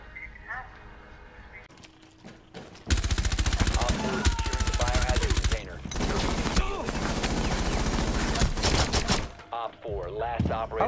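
Rapid bursts of automatic gunfire from a first-person shooter video game, loud and dense, running almost continuously with brief pauses, alongside game sounds and voices talking over it.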